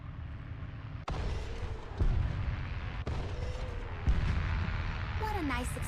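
Heavy shots and explosions boom in a tank video game, four sharp blasts about a second apart with rumbling tails, followed by a rising whine.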